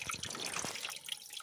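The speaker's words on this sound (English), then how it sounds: "there's the water." Faint water trickles and drips deep in a freshly dug well shaft above bedrock, a few soft close plinks and splashes over a low, hollow wash.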